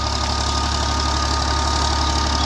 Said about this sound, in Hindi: अगेन मैं ट्यूबवेल पे पहुंच चुका हूं, तो काफ़ी बढ़िया बहुत ही अच्छा चल रहा है।